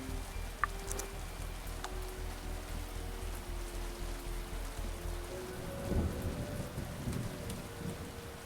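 A thunderstorm rolls through a story video game: rain hisses steadily throughout, and a deep rumble of thunder swells midway through.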